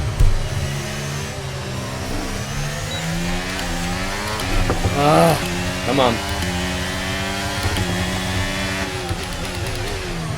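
Racing car engines roar in the F1 23 video game, rising and falling pitch sweeps as gears shift and cars pass, loud and continuous while someone talks over them briefly.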